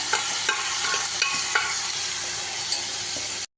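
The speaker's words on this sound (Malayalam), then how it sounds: "ഈ സമയത്ത് നമുക്ക് വേവിച്ച് വെച്ച പയറുണ്ണിപ്പിണ്ടി ഇട്ടിട്ടെടുക്കാം" Cooked banana stem and beans hit hot oil with browned chillies in a pan, giving a loud, steady sizzle. A few spatula scrapes and clicks sit over the hiss before it cuts off abruptly.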